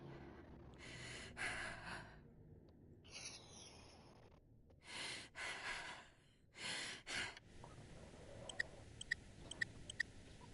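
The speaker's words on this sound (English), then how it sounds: "Your breathing is weird though." Addison, a patient in the Quarantine Zone video game, breathes abnormally in several gasping, snorting bursts. The sounds come in uneven pulses with pauses between them, followed by faint ticking sounds at the end.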